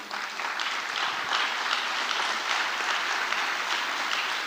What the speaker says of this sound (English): kindly clap for every one of them.